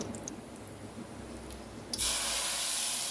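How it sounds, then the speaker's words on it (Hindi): Low background noise, then an abrupt loud hiss as hot tempering hits the moong dal and keeps sizzling strongly to the end. "अब ये तड़कता फड़कता तड़का हम दाल में डाल देंगे जी"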